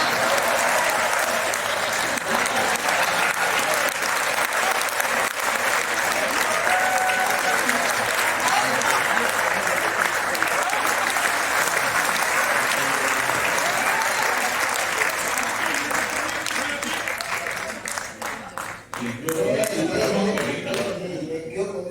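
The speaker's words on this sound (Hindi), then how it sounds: "जब तक पूरा हाल ताली नहीं बजा रहे," A whole hall of people clapping together in sustained, loud, dense applause that holds steady for most of its length, then thins out near the end as a voice begins over it.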